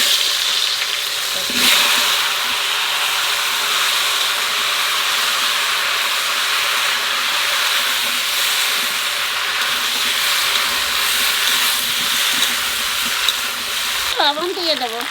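Potato pieces dropped into hot oil already holding cumin seeds and bay leaf, giving a loud steady sizzle and hiss throughout with brief stirring clatter, heard up close in a home kitchen.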